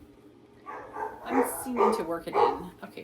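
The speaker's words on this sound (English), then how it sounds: "sorry for the dogs barking in the background." Dogs bark in the background while someone talks close by, the short yips and woofs overlapping her speech over about three seconds.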